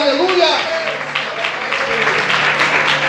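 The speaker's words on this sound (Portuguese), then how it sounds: "Você pode aplaudir e exaltar o Senhor nessa noite" Congregation applause during a church sermon, continuous clapping from a large group blended with voices and a sustained musical tone, loud and steady throughout.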